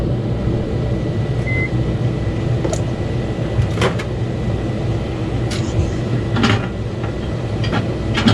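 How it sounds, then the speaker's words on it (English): A steady, loud mechanical hum runs throughout, like a microwave oven operating, with a few faint clicks and a brief beep early on. "So we're gonna have to do it in the microwave."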